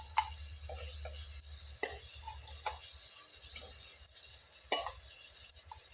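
Chilli, potato and carrot sauté in oil in a pan for veg biryani, making a faint steady sizzle. A few clear ticks and scrapes of stirring stand out over the low, even hiss.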